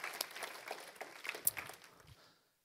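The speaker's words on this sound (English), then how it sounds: "let's give a round of applause for Natasha" A church congregation at a Sunday English service gives a short round of applause for Natasha. The clapping is light and scattered, comes from a fairly distant crowd, and fades away after about two seconds.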